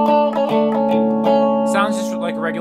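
Electric guitar with the volume cranked, strummed clean with the fuzz pedal switched off: a few ringing chords and single-note runs, close and loud, with no talking over it.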